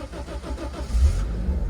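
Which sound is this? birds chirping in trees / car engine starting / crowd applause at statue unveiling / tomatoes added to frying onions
car engine starting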